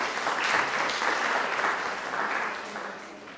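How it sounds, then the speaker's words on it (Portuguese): An audience at a university law week event in Arapiraca breaks into steady, moderately loud applause from a crowd, continuing evenly for a few seconds with no voices over it. "Uma salva de palmas também."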